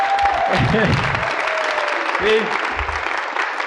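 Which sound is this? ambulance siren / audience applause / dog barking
audience applause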